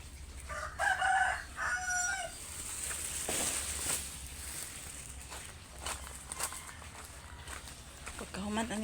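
Chickens and a rooster at feeding time on a farm, with harmonic crowing and clucking calls near the start and again near the end, mixed with footsteps and scattered bird sounds over a low steady hum.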